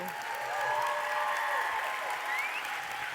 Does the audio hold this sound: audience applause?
yes